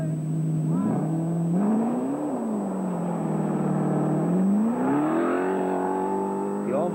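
A Fiat rally car drives hard on a British rally championship stage, its engine droning loudly and steadily, pitch rising and falling through gear changes as it revs and accelerates nearby.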